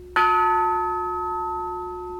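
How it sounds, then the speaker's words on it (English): A single strike on a bell rings out clearly, its bright tone sustaining and slowly fading over a couple of seconds. "Oh my, that's one of the top sounding bells."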